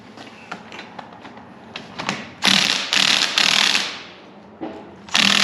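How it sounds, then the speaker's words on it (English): A ratcheting wrench works a nut loose on the steering of a 58-year-old car, with quick light clicks followed by several loud bursts of harsh metallic grinding and scraping close by. "Now we'll take the wrench and back that off"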